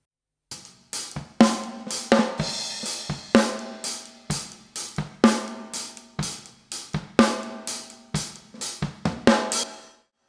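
Dry home-studio snare drum played alone without bus saturation, a run of sharp cracks in an uneven rhythm, close and fairly loud with short decays.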